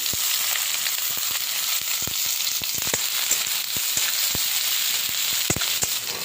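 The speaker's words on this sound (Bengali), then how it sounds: "কড়াইতে সর্ষের তেল দিয়ে দিলাম পেঁয়াজ দিয়ে দিলাম" Chopped onions fry in mustard oil in a wok, giving a steady, close sizzle scattered with sharp pops and crackles throughout, with no voices.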